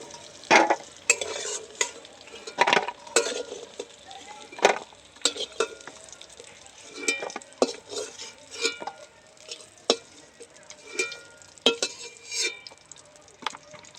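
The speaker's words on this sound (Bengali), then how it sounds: "কাঁকড়াটা আমার ভাজা হয়ে গিয়েছে" Small chiti crabs fry in oil in a wok while being stirred, producing a soft sizzle broken by frequent sharp scrapes and clinks from the spatula against the pan.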